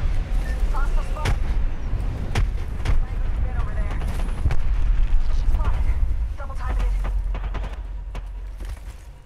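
Grenade blasts and gunfire in Apex Legends, with repeated sharp booms and rumbling impacts scattered across a noisy battle, loud and close, while a voice speaks over the action.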